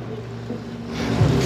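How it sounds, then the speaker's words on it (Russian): Honda outboard motor on a passenger boat during a night river cruise hums low and steady, a close continuous drone with faint water wash and rising slightly toward the end. "Мотор Honda."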